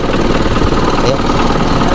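An Isuzu 4HL1 diesel engine idles loudly at close range with a steady, dense rumble and faint knocking vibration, while people talk nearby.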